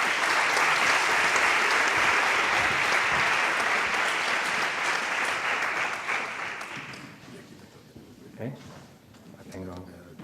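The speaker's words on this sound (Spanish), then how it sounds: "así que, por favor, recibirlo con un fuerte aplauso" Loud crowd applause at a science awards ceremony, steady dense clapping for about seven seconds that then fades into scattered claps and quiet room noise.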